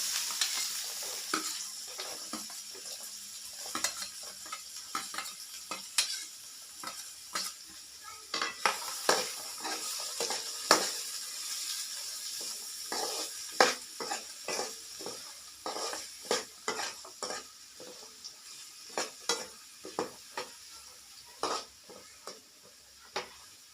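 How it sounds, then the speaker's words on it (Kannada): Onions stir-fry with a bright, continuous sizzle in a pan on a stove for egg rice, punctuated by frequent sharp scrapes and taps of a spatula against the metal, close and steady with no talking. "ಇಲ್ಲಿ ಮಿಕ್ಸ್ ಮಾಡ್ಕೊತಾ ಇದ್ದೀನಿ ನೋಡಿ. ಇವಾಗ ಈರುಳ್ಳಿ ಕೂಡ ಹಾಕೊಂಡ್ಬಿಡ್ತಾ ಇದ್ದೀನಿ ನೋಡಿ."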